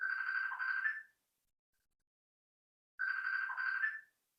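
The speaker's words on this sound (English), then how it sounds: "We're gonna have to wait till they finish ringing. Girl, that's the iPad." An iPad rings in two bursts of an electronic ringtone, each about a second long, separated by a couple of seconds of silence. The tone is bright, clear and moderately loud, with no talking.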